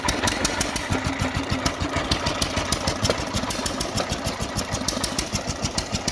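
A 1939 John Deere tractor engine runs steadily at close range, its rapid regular firing pulses quickening slightly as the throttle is opened, loud and alone with no talk.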